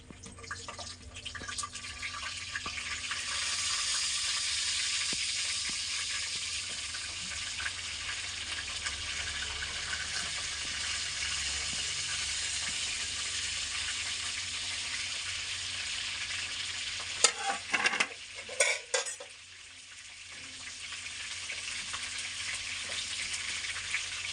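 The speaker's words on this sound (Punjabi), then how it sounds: "ਸ਼ਿਮਲਾ ਮਿਰਚਾਂ ਨੂੰ ਆਪਾਂ ਤੇਲ ਦੇ ਵਿੱਚ ਪਾ ਲੈਣੇ ਆ" Capsicum peppers fry in hot oil in a pan with a steady, close sizzle throughout, a brief burst of stirring and clattering near the end before the frying settles down again.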